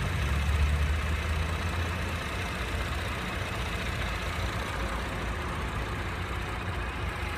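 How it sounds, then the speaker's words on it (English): A 2016 Chevrolet Camaro 2LT RS coupe engine idles with a steady, low rumble that holds even throughout, no voices present. "Very impressive engine."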